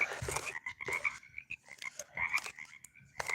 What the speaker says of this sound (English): Now, frogs can make that sound even if they're underwater.